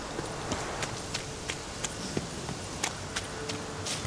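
Horse hooves clip-clop at a walking pace in The Witcher 3, a steady rhythm of soft thuds repeating roughly every half second against a dense game ambience, with no talk over them.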